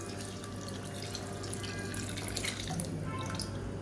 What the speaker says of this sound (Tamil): இப்போ தேவையான அளவுக்கு தண்ணியும் சேர்த்துக்கலாம்